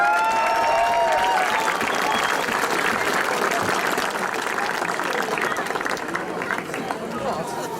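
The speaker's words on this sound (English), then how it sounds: "So would you give Father Sean a big round of applause" Crowd applause at a football club gathering after a county intermediate football final, dense sustained clapping mixed with some cheering and chatter, loud at first and easing slightly toward the end.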